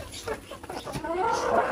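Desi hill chickens clucking in a poultry house with laying boxes, a short close burst of clucks under a murmur of background noise.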